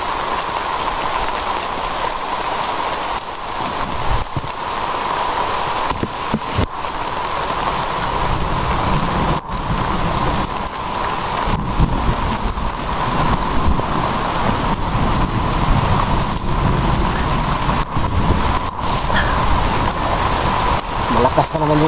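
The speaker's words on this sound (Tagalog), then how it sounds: "Malakas na naman yung ulan." Heavy rain pours outdoors as a loud, dense, continuous roar with sharp spattering hits on nearby surfaces, steady throughout and unbroken by any voices.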